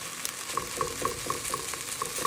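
Chicken fried rice sizzles and crackles in a very hot pan as clumps are broken up, with a steady frying hiss and regular light scraping taps close by.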